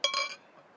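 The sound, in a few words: opening a bottle of Woody's Bark stout beer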